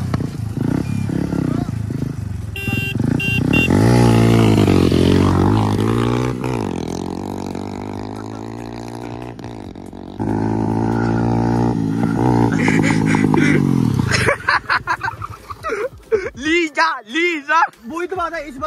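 KTM 390 motorcycle engines roar and rev loudly in a race, the pitch climbing and dropping as the bikes accelerate, with voices talking over the noise near the end.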